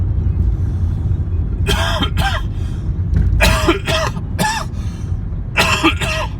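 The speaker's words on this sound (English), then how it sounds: "Oh, that cough hurt." Harsh, strained coughing comes in several close bursts, hacking and rough, as though each cough hurts.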